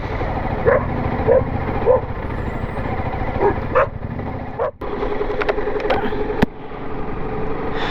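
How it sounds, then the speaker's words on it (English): A little dog yips and barks several times in short bursts at a shop, heard over the idle of a running motorcycle engine with some voices nearby. "Bye, little doggy."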